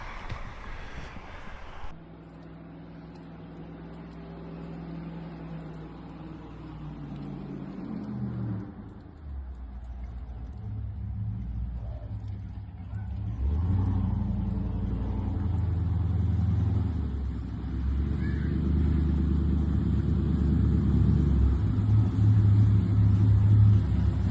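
A 1991 Chevy G20 van with an LS engine and 4L80E transmission rumbles steadily on a test drive, its low engine and road drone swelling slightly louder as it picks up speed, with no talk over it.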